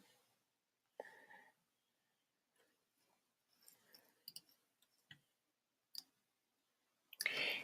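A computer mouse clicks in a quiet room, a few sparse, soft, isolated clicks spread out with long silent gaps between them.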